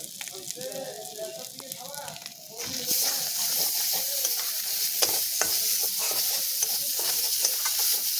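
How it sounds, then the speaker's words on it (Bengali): Spice paste with turmeric and chili powder fries and is stirred in a pan for a mustard-based pabda fish curry, a dense steady sizzle rising sharply after a brief voiced stretch, with scraping stir strokes punctuating the hiss throughout. "ভালো করে মশলাটাকে একটু কষিয়ে নেব।"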